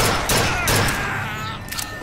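Gunfire in the video game BioShock Infinite, a dense, loud burst of rapid shots and booming impacts that fades slightly over two seconds.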